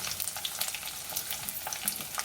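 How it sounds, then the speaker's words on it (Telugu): Two dried red chillies fry in hot tempering oil for a potato-tomato curry, a close, dense crackle and sizzle with faint stirring scrapes, steady throughout. "ఒక రెండు అయితే ఎండుమిర్చి వేసుకుంటున్నాను పోపులో"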